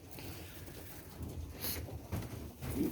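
White doves coo softly and faintly at a dove loft, a few low murmuring calls over a quiet background hiss.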